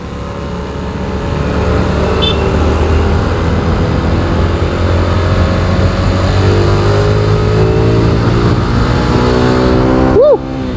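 A Honda Supra underbone motorcycle engine accelerating hard uphill, its loud, continuous drone holding strong and climbing in pitch, close by, with no talking.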